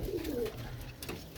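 A Teddy pigeon coos in low, steady murmurs, close by and continuous across the short stretch, with a faint background hum.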